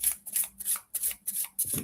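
A deck of cards is shuffled close up, with a quick run of six or seven crisp riffling bursts and short gaps between them, heard alone.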